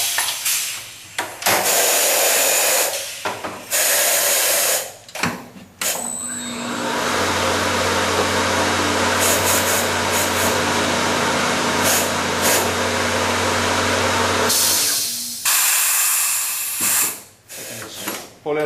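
Tire changer machine breaking the bottom bead of a tire: a loud, steady mechanical whir and hum sustained for about ten seconds, framed by bursts of clanking and ratcheting, up close and without talk.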